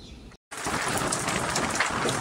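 Rain falling outdoors, a steady loud hiss of drops after a brief dropout, close and continuous.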